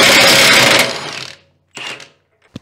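Impact wrench with a 36 mm socket removing a BMW M3 Competition rear axle nut: a loud, close rattling burst of hammering for about a second, then a shorter second burst and a sharp clank.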